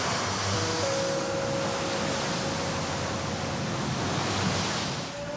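Crashing ocean waves at Bondi beach, a loud, continuous wash of surf roaring near the listener with a faint steady tone underneath and no speech.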